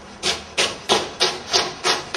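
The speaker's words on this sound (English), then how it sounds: "this really works well with a knife by cutting it into quarters first" A knife cuts through quartered cabbage into strips, giving six rhythmic, evenly spaced crunchy strokes, close and clear with no talking.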